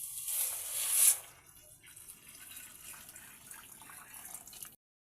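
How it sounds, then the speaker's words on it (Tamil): Water splashes and pours briefly into a cooking pot for chicken sweet corn soup, strongest at the start, then settles into a softer trickling flow before stopping. "தேவையான தண்ணி சேர்த்துக்கொள்ளும்."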